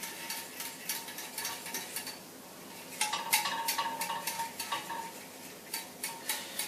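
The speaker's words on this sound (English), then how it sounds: "So I've got as much of that honey as I can get into the dish, like that. And give it a final stir." A spoon stirs raw chocolate mixture with honey in a dish. Close, rhythmic scraping strokes repeat steadily, with no voices over them.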